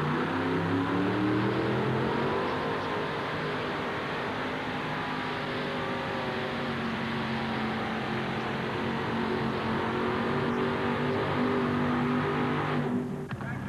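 Pulling tractor Blue Ox roars through a full run at a 1988 tractor pull in Memphis, a loud, steady engine drone with harmonic whine that holds for most of the stretch before cutting off near the end.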